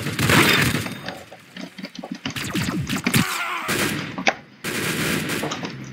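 Video game gunfire from the game's first gun bursts in rapid, loud volleys with sharp shattering impacts, separated by short gaps, including a brief near-silent pause.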